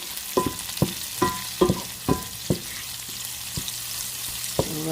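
Onions and scallions fry in a pan for lo mein made with spaghetti noodles, giving a steady close sizzling hiss broken by about ten sharp, fairly regular knocks and scrapes of a utensil stirring, with no talking.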